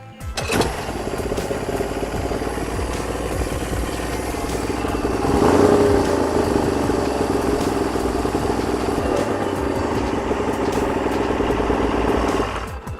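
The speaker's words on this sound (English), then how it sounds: "So the motor started, which is awesome." A boat motor starts and settles into a steady, loud running drone that holds evenly for several seconds before cutting off.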